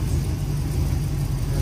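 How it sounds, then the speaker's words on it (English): Oldsmobile 403 V8 engine idling around 700 RPM, a low, steady rumbling drone heard up close without pause. "But it's idling probably around 700 RPM, I'd say."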